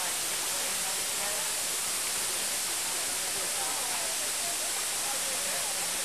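Waterfall in Hawaii, a continuous broad roar of falling water, steady and fairly faint with no break across the stretch.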